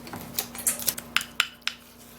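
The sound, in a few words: stirring a mixture of ingredients in a container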